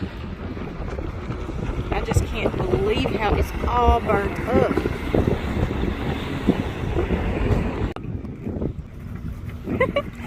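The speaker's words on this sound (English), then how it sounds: "It's so windy." Strong wind buffets the microphone in a constant roar on the Colorado River at Laughlin, Nevada, with a person speaking briefly underneath the rushing noise.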